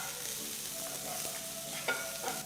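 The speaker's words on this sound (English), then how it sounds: "Fry the onions till they're a nice golden brown color." Finely chopped onions frying in oil in a pan, a soft steady sizzle with a few light stirring clicks toward the end, close and fairly quiet with no talking.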